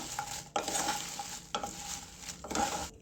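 Dried red chillies being stirred and dry-fried in a pan for homemade rasam powder, with a steady dry scraping and rustling, with three firm strokes about a second apart, close and clear, and no talking.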